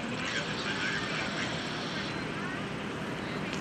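An RV-type small airplane at the 2011 Greenwood Lake airshow approaches the runway for a wheel landing, its engine a steady, fairly distant drone with a constant broadband rush and no clear rise or fall.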